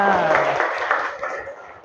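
A group of schoolchildren clapping together in a classroom, a brief burst of hand claps mixed with voices that fades over under two seconds.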